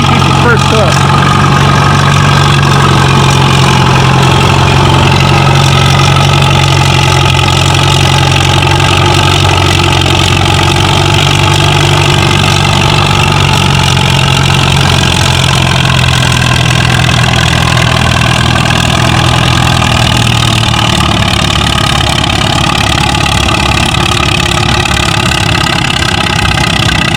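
Pulling tractor engine at a spring tractor pull, a loud steady low drone with a sustained mid-range roar throughout, running continuously for the whole stretch under a public-address announcer talking.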